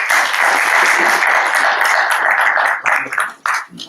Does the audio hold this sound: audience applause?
yes